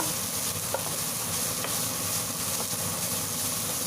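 Food fries in a pan while being stirred and mixed for a Chinese-style dinner dish, producing a dense, even hiss of sizzling with occasional faint clicks of the utensil against the pan.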